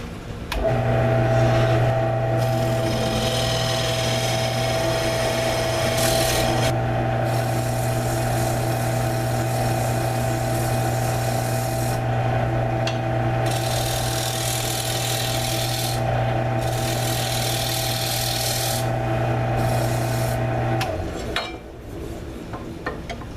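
A loud, steady power sander grinding on a wooden router table insert for about twenty seconds, with a constant motor hum, then winding down abruptly near the end.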